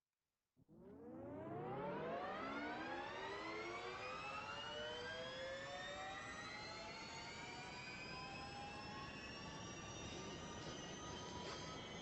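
A Jaguar car launches hard down a racing straight, its engine whine starting abruptly and climbing steadily in pitch through the gears into a sustained high scream, loud and continuous with no talking.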